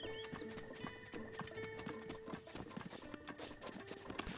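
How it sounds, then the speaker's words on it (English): Rapid clip-clop of hooves on a hard surface with a horse whinnying in the video game Breath of the Wild, close and busy, no talking. "I should check my horse."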